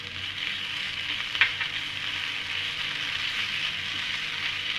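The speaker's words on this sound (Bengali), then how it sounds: "ভালোভাবে চিকেনটাকে আবার একবার কষিয়ে নিচ্ছি।" Chicken pieces sizzle steadily in a hot pan as they are sautéed with chopped coriander leaves, a continuous close frying hiss with one brief louder spatter partway through.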